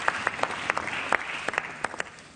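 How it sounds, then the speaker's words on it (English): A conference audience applauds at the Council of Europe's Istanbul Convention anniversary event, with a dense, steady clapping that has sharper individual claps popping out. It is moderately loud throughout, and no voices are heard. "Can you do the clap hands for him?"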